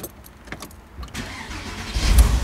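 A Porsche Boxster engine cranks and catches, then rumbles up to a steady idle, loud and close.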